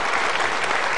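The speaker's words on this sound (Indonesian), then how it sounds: "Boleh saya minta tepuk tangannya untuk Anda yang sudah menentukan pollingnya?" A studio audience at a Mario Teguh Golden Ways talk show bursts into a brief, full round of clapping, loud and close, with no pause in the sound.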